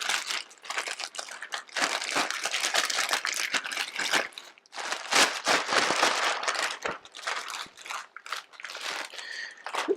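A plastic dry-aging bag crinkles and crackles continuously as a large standing rib roast is worked into it, with dense, close rustling that swells and dips in bursts.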